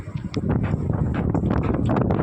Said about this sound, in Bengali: প্রচুর হাওয়া হচ্ছে, আপনারা হাওয়া বুঝতে পারছেন